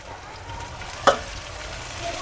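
Poha, flattened rice, sizzles softly in a hot pan as it is stirred, with a steady low frying hiss and a single sharp scrape or tap of the spoon midway. No one speaks.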